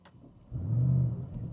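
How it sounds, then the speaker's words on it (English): An Audi RS6 Performance estate fires up: a short starter burst, then a loud, swelling low exhaust rumble that settles into a steady idle, heard close with no talking. "let's start the engine and you can also listen to it for a second."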